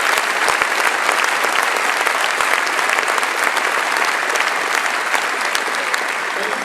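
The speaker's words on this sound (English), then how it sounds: "Give this man a round of applause" A large audience at a business talk claps loudly and continuously, a thick even wash of applause with no break throughout.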